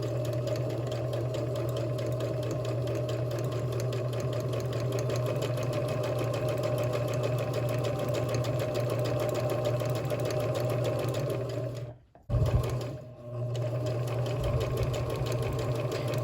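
A Kenmore 385 series sewing machine stitches a monogram letter, running steadily and close for about twelve seconds, then stopping briefly for a reverse stitch before resuming.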